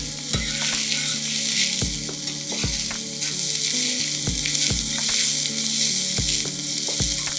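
Onions frying and sizzling in an Indian masala with boiled eggs, a steady close hiss with repeated soft stirring knocks throughout, no talking.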